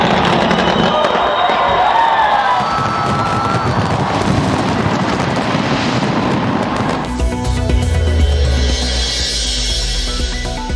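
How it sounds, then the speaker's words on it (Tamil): New Year fireworks over Sydney, Australia: a continuous dense roar of bursts and crackling with crowd noise throughout, loud and sustained, shifting to a lower rumbling texture near the end. "ஆஸ்திரேலியாவின் சிட்னி நகரில் இரவை பகலாக்கிய வான வேடிக்கைகள்."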